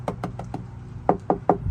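Knuckles knock on a Toyota Tacoma door panel after Dynamat sound deadening was applied inside, four light taps followed by three firmer, louder knocks, each short and dull with little ring.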